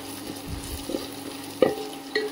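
Whole red chilies tossed into hot oil as a tempering for dal fry, giving a steady close sizzle with a few sharper crackles and pops and no voices.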